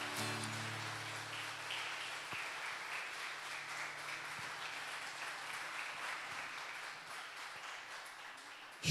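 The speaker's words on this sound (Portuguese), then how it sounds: "Você pode aplaudir a Jesus?" Church congregation applauds, a steady, dense wash of clapping from many hands with a faint sustained organ tone underneath, fading slightly toward the end.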